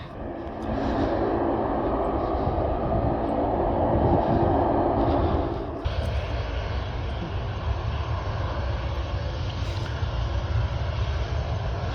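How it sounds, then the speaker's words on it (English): A Ryanair airliner taxiing at an airport gives off a steady, moderately loud engine roar heard from a distance outdoors, continuous throughout with no talking. "that Ryanair, that's going to be taken off that way. Taxiing now, is it runway 27?"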